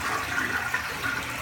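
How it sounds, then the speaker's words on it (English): Toilet flushing right after being cleared with a toilet plunger shotgun, a steady close rush and swirl of water filling the whole short stretch without voices. "And then we're going to flush it."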